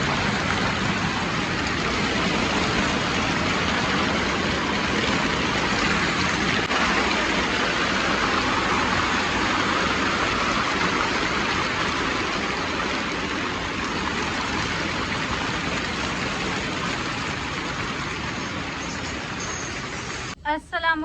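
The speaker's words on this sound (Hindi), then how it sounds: "मुसलसल बारिश हो रही" Continuous heavy rain falls on a village, a dense, steady hiss that holds evenly throughout with no pauses, and a brief knock right at the very end.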